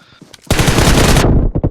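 A loud burst of rapid automatic gunfire sprays for under a second in a shooting video game, preceded and followed by a few short, sharper shots and clicks.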